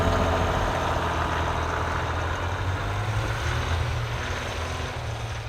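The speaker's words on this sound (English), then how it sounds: "a little bit of cranking to get the diesel started up" A Jeep Wrangler's diesel engine idles steadily just after a cold start, with a loud, continuous low rumble that stays even throughout and no voices.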